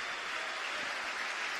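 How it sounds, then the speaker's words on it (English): Cardiff City supporters at a Cardiff City versus Swansea City development match applaud a substituted player, a steady wash of distant clapping held at a constant level throughout, with no voices over it. "who gets a big round of applause from the Cardiff City faithful beneath us"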